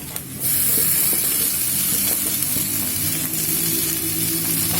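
Onion, ginger, garlic and green chili sizzle loudly in hot oil, a dense hissing spray that starts abruptly and holds steady with light stirring; nobody speaks.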